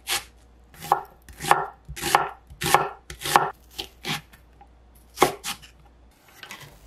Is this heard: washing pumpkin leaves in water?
no